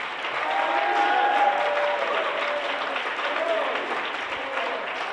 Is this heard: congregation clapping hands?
yes